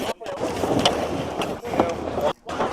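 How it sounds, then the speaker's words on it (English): Racing sailboats in the Governor's Cup move through the water, giving a steady rush of wind and hull wash with brief gaps, while voices call out over the noise. "Let's listen to the boats here."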